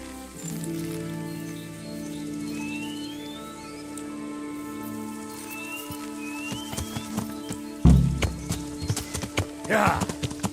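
Horse hooves clip-clop in a steady trot in the video game Kingdom Come: Deliverance, growing louder and busier toward the end, over a low droning backdrop.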